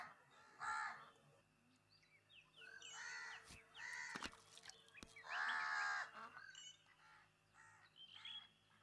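A crow caws loudly several times in short, harsh bursts spread across the stretch, with fainter calls from other birds between them.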